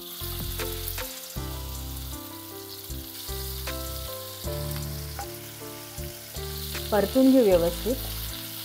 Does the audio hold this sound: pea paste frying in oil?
yes